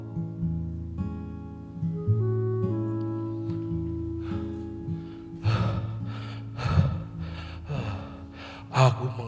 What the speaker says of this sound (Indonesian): Aku mengayuh sepedaku dengan terengah-engah mendaki bukit.